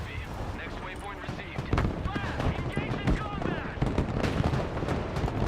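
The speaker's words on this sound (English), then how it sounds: "The supply keeps exploding." Supplies exploding in the video game Broken Arrow, set among continuous battlefield gunfire and artillery booms, with overlapping blasts and crackling.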